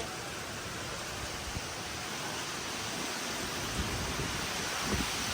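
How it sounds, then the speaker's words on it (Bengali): Heavy rain pours down in a dense, continuous hiss that swells slightly toward the end. "এরকম বৃষ্টি অনেক দিন পর হচ্ছে"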